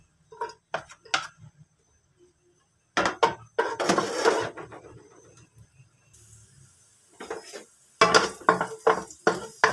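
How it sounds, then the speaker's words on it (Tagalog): Garlic, onion and tomato go into oil in a pan for sautéing, heard as scattered clinks and scrapes of a utensil against the pan in short bursts with quiet pauses between. "Maggigisa na tayo ng ricado. Ayan, bawang, sibuyas at kamatis."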